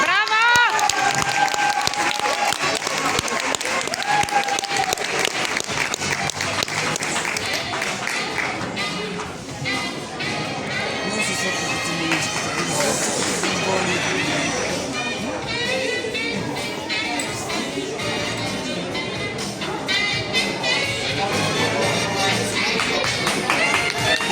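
An audience claps and cheers for dance couples after a competition's winners are announced, a dense, steady wash of applause running throughout with an announcer's amplified voice over it.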